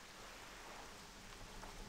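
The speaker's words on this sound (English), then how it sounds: "you're getting rain poured down on you" Faint, steady rain falls in Darkshore in World of Warcraft Classic, a soft continuous wash of patter with no speech over it.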